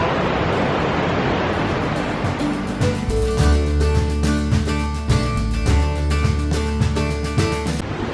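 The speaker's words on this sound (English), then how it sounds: "The waterfall." Waterfall at Sacred Dancing Creek in Glacier, a steady broadband rush of falling water that fills the whole clip. Partway through, a strong low rumble and some tonal sounds join the roar.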